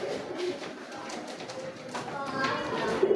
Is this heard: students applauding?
no